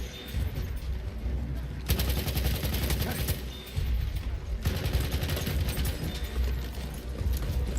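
In Battlefield 1, a Hellriegel 1915 submachine gun fires rapid, dense bursts of automatic gunfire that crackle and rattle in two long strings, loud and close, with a faint voice talking underneath.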